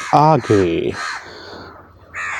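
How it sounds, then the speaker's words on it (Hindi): A crow caws loudly nearby on a terrace garden, a few harsh calls at the start, with a person talking briefly over and after them. "एक कौवा बोल रहा है बहुत तेज यार,"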